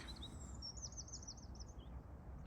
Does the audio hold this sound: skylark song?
yes